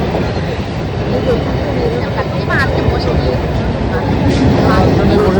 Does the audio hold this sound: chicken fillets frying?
no